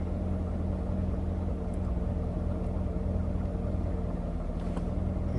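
Steady low engine rumble from a Corvette idling and lugging as a learner works the manual clutch, a continuous droning hum with no clear revs, close and even throughout.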